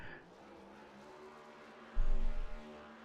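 A NASCAR stock car in the iRacing sim at Talladega holds a steady engine drone, then bursts into a loud, rough roar of spinning tyres for about half a second before settling back.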